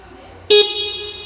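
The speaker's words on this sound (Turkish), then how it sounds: "Şöyle bir kornası var." A single short honk from a 50cc Kuba Blueberry moped horn, sharp and close, cutting off quickly and leaving a lingering ring.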